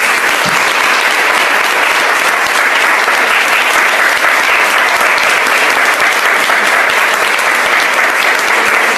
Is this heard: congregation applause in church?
yes